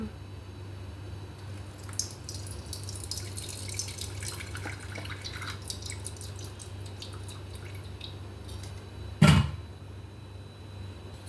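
Amla gooseberry juice is strained, with faint, scattered drips and trickles of liquid over a low background hum, and one sharp knock near the end.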